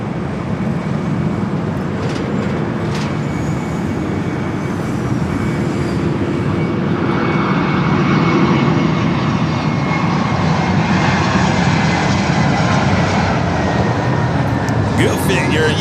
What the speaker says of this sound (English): Toontown livery on this Alaska 737 now rolling down to 24 left